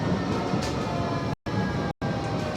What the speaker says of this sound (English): a lot of this tram ride, not all of it, but several miles, you're right against the coast